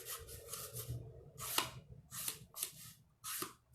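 Chisel-tip scented marker coloring over cardboard for a kids' frog craft, giving soft rubbing strokes in several separate bursts, close and quiet, with no talking.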